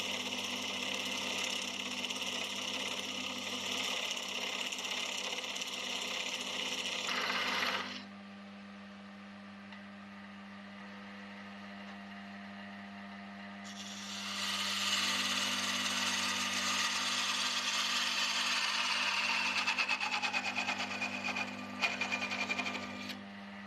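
Wood lathe cutting to divide a turned top from its bottom, a steady loud whirring hum with gritty high cutting noise that pauses midway and then resumes.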